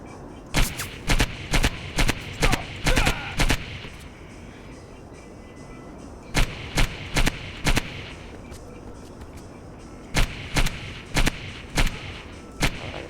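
Gunfire from the video game I.G.I. comes in three sharp, loud bursts of rapid shots separated by quiet pauses, with a few ambient sounds between them.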